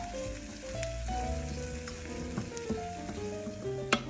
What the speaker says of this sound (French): les tomates cuisent doucement avec l'échalote